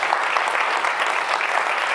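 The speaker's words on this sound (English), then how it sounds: "So wait for thunderous applause" Audience applause at a tech foundation conference keynote, a full, even clapping texture sustained throughout, fairly loud and without speech on top.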